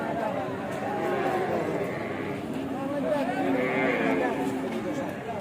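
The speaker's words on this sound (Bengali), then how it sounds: "বিশাল বড় আকারের এই মহিষগুলি" Large buffalo at a rural livestock market, a crowded open-air haat, with low lowing and general animal and crowd noise under continuous nearby chatter and voices.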